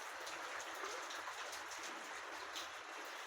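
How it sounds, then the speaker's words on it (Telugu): Heavy rain pours outside, a soft, steady hiss of falling drops heard from indoors at low level, with no voices. "బయట అయితే విపరీతంగా వర్షం అయితే కొడుతుంది"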